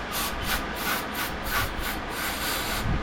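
Spray hissing in repeated short bursts into the carburetor venturi of an old Homelite chainsaw, a rhythmic series of bright pulses close by with no voices.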